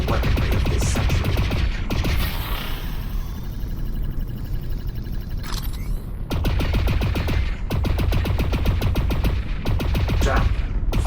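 Ionized bolt weapon fired in the Lone Echo 2 video game, loud rapid-fire bursts crackling in quick succession, with a pause midway before two more sustained volleys.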